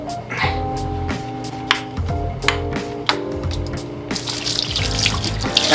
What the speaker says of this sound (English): now we dumped out all the water